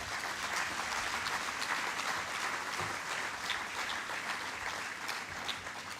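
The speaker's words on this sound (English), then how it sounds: "applause." A crowd at the ceremony unveiling the commemorative Golden Jubilee EC $50 note gives a long, steady round of applause, the clapping thick and constant without any break.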